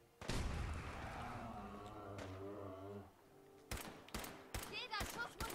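Gunfire in the video game Fallout 4: a loud blast and rumbling echo, then several sharp rapid shots near the end, with game sounds and voice talk layered in.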